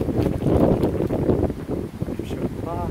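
Gusty wind buffets the microphone on the Minungsan mountain trail in Jeongseon, a rough rushing roar that swells and eases, with leaves falling along the path.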